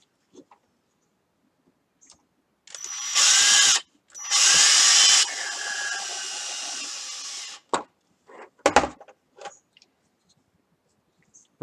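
A power drill drives small 3mm, 25mm-long screws in two loud bursts of a few seconds each, rising in pitch as it spins, followed by scattered clicks and handling noises in a quiet room.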